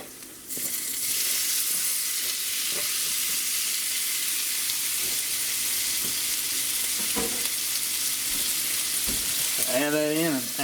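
Sliced raccoon hindquarter meat sizzles in a pan with caramelized onions and garlic, a steady loud frying hiss throughout, with a few stirring scrapes and a brief burst of bubbling near the end.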